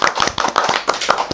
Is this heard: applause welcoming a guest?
yes